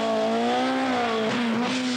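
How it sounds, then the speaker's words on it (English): Opel rally car racing through misty Isle of Man stages during the 1982 Manx rally, its engine holding a steady high whine with shifting revs, loud and continuous, with no voices. "Through the mist, the first Opel appears."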